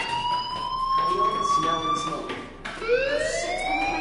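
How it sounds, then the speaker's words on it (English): A fire alarm sounds in the video game Life is Strange, a steady electronic wail that holds its pitch and then sweeps upward again, loud and continuous under a speaking voice. "do you hear that fire alarm?"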